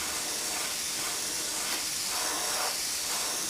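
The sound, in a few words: airbrush spraying paint onto a scale model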